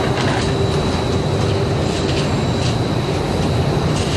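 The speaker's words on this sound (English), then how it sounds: "The batch goes through a 2-hour rinse cycle, and the denim takes a pummeling from the stones" Giant industrial stonewash machine tumbling a batch of jeans with stones, a loud dense rumbling roar with constant clattering texture, steady and unbroken throughout.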